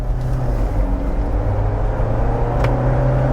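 A Jeep Wrangler 4xe accelerates along a paved road after leaving a dirt section, giving a steady, loud in-cabin engine and road drone with a rising hum and no voices.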